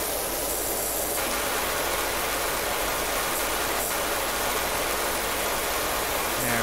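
Steady, loud broadband hiss of a pressure washer spraying water in the PowerWash Simulator video game, continuous and close with no gaps, with a brief change in texture near the start.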